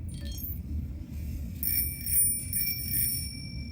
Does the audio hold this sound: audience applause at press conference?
no